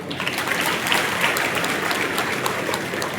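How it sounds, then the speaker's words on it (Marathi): Men in an audience clap for the women, a dense, steady wash of applause from a crowd lasting the whole stretch, moderately loud with no talking. "यानंतर सगळे पुरुष टाळ्या वाजवतील महिलांसाठी, सगळे पुरुष."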